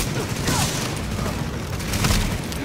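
Sustained burst of gunfire in The Division during a firefight in a medical wing, dense repeated shots with booming low end, loud and continuous throughout.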